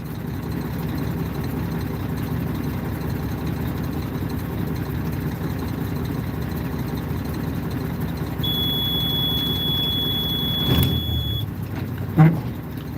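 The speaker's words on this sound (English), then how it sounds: "That beep you just heard, that's the truck trying to shut off." A plow truck idles with a steady low engine rumble, then a thin, high electronic warning beep sounds continuously for about three seconds before the automatic engine shutoff, followed by a couple of brief clunks.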